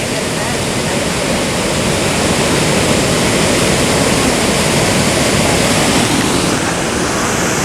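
A waterfall roars at Old Forge in summer, loud and continuous broadband rushing water that stays steady throughout with no clear voices.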